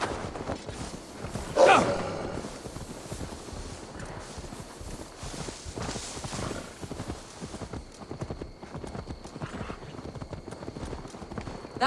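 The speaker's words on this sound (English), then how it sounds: "Now to deliver Magni his horse." Horse hooves clip-clop steadily at a walking pace in Assassin's Creed Valhalla, close and continuous for the whole stretch, with a brief snort or whinny near the start and soft outdoor ambience underneath.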